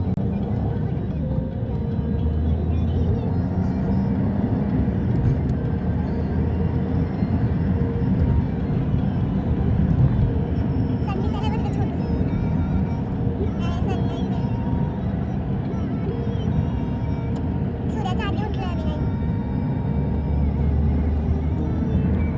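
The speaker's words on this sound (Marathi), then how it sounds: "गाडी ऑलरेडी चालू आहे" Constant low road rumble and engine drone from inside a moving car on the way to Hyderabad, steady and fairly quiet throughout, with occasional voices faintly over it.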